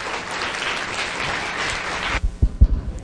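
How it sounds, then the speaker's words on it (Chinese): Audience applause welcoming a physics professor at a public astronomy lecture, steady dense clapping that cuts off abruptly near the end, followed by a few louder isolated thumps. "让我们用最热烈的掌声欢迎台大物理系的吴俊杰教授。"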